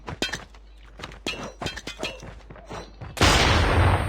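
A grenade blast in the Call of Duty Mobile shooter game bursts out loud and broad, with a sustained roar after a run of sharp clanks and thuds.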